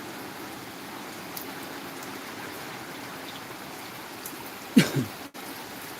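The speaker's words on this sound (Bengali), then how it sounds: "দীর্ঘ অনেক অনেক অনেক দিন পর এলাকায় বৃষ্টি হচ্ছে" Steady rain falls over a local area after a long dry spell, a soft continuous hiss of drops on surfaces with a brief louder splash or knock near the end.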